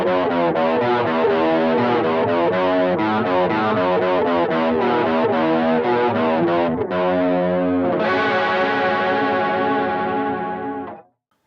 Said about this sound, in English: a chorus coupled with distortion